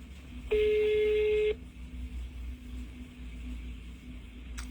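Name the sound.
telephone call ringing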